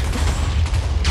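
A sustained, rumbling blast from Minecraft explosions, with a heavy low roar and crackling texture filling the short moment, loud and close with no talk.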